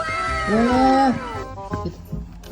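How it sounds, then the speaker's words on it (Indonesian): A kitten delivered in a parcel gives one clear, close, rising-and-falling meow, followed by quieter rustling and handling noises. "Wah, kita dapat dua kucing."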